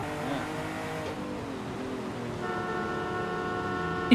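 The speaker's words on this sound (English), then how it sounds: "Keep honking at him." Car horn in the racing video game Forza Horizon 5 sounds in long steady toots over a droning engine, fairly close and clear.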